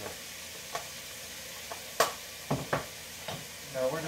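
Sloppy joe meat sauce sizzles softly in a pan under a low background, broken by several sharp spoon scrapes and knocks against the pan; faint and fairly close.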